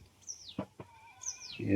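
A sheep bleats in a farm field, a few wavering calls spread across the moment, fairly close, with brief thumps between them and no talk over the calls.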